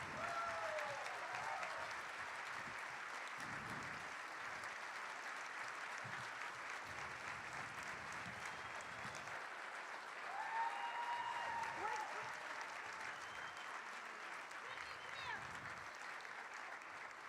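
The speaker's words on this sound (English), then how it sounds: "A big round of applause for Mr. Greg." Sustained applause from a gathered crowd honoring scholarship recipient Greg Phelps at the TASTE of GSBA 2015 event, steady and moderately distant for the whole stretch, with voices and cheers rising through it.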